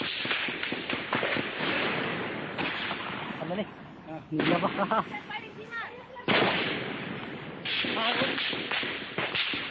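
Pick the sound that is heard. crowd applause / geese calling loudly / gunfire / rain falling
gunfire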